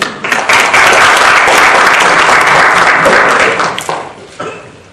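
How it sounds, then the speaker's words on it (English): An audience breaks into loud, sustained applause, a dense wash of clapping that holds steady for several seconds before thinning and tapering off near the end. "girls, I think he deserves a big round of applause"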